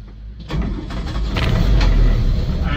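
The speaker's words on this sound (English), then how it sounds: "and starts nicely, no problems at all there." A Land Rover Series 1 86-inch station wagon's 2-litre engine cranks briefly and fires, then settles into a steady, close, loud idle with no talk.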